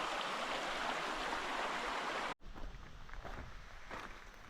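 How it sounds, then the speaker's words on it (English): Anthony Creek flows with a steady broadband rush close by. It cuts off abruptly midway to a quieter, softer trickle with light shuffling. "you can pull over and see the creek or the river"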